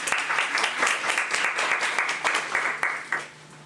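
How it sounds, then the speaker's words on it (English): A conference audience claps for a speaker taking the stage, a short burst of fairly close, dense clapping with individual claps audible, dropping away sharply near the end. "So can we please give Sophia a round of applause?"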